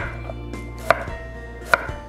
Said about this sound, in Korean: 호박도 자, 반달로 이렇게 썰어서 익혀 볼게요